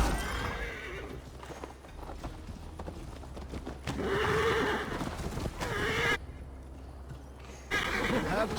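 A horse in Assassin's Creed Valhalla whinnies loudly and its hooves clip-clop steadily nearby as riders mount up, with voices talking over the sounds.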